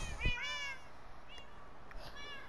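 Several cat meows in the video game Minecraft, a few short mews spread across the moment alongside a soft thump, fairly quiet and clear against a faint background.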